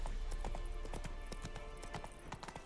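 Roach the horse galloping in The Witcher 3, a quick rhythmic clatter of hoofbeats, fairly clear and steady over faint background game sound.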